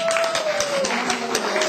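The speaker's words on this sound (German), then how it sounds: "Es darf geklatscht werden, ich mag das." Audience applause at a German congress in Alsfeld, a steady dense patter of many hands clapping throughout, with a sustained tone running underneath.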